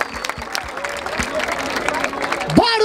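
Crowd at a rap battle in Barueri, São Paulo, applauding and clapping in a steady mass of sound with babble mixed in, closing with a loud shout or whoop.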